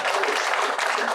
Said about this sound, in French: Je crois qu'on peut l'applaudir de nouveau